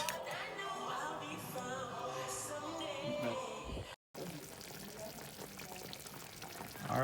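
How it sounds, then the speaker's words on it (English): Water poured into a pot of Jamaican stew chicken on the stove, a continuous splashing pour with frying sizzle, followed by a short break and then a softer bubbling simmer. "This needs a little more water in it."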